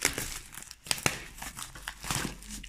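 Plastic wrap crinkles and tears off a Pokémon trading card Elite Trainer Box from the Battle Styles set, a close, steady rustle with sharper crackling bursts throughout and no talking.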